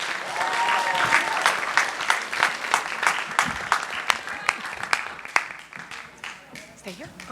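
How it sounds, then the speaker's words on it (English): Audience applause at a high school senior awards ceremony as the crew and board come up, a dense steady clapping that swells early and thins into scattered claps near the end, with voices murmuring underneath. "Let's clap for all of them"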